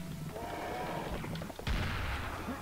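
A coach gun blasts in Serious Sam: The First Encounter, one heavy, booming shot standing out against a busy backdrop of game noise, close and loud.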